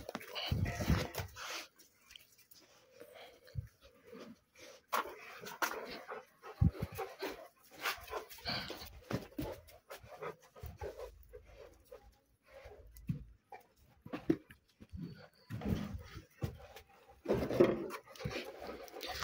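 Dogs at the house where they sleep give soft whimpers, pants and the odd faint bark, close by amid shuffling and low background talk.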